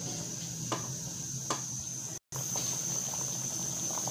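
Koftas cooking uncovered in a pan, a steady soft bubbling simmer with faint ticks, briefly cut by a moment of silence.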